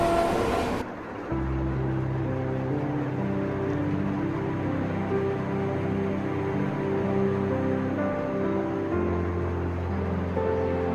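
The Ranchi Rajdhani Express runs with a steady, loud, close rumble of wheels and carriages and a sustained mechanical hum that continues unbroken throughout.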